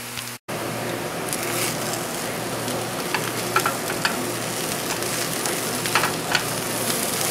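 Shredded Idaho potato hash browns sizzle steadily in a hot pan, a dense, even frying crackle with occasional light scrapes of a turner.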